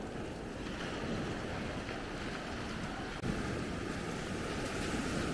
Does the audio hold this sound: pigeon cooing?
no